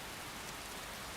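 Rain falls in a modded Skyrim game world as a soft, steady, even hiss, quiet and continuous through the short stretch with no other sound.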